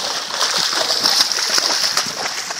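A 30 kg catfish is released into a river or lake, its thrashing producing continuous close splashing and sloshing of water throughout.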